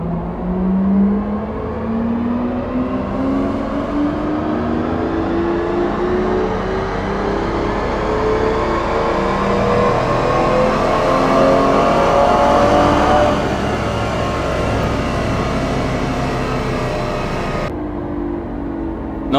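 An Aston Martin V12 Vantage engine runs at full load in sixth gear on a dyno, its loud continuous roar climbing steadily in pitch for several seconds before easing off near the end.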